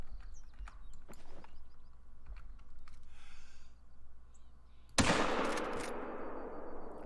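A single sharp rifle shot is fired at a whitetail buck in the hunting game Call of the Wild, loud and sudden, then ringing out in a long echoing tail after quieter game ambience and faint footsteps.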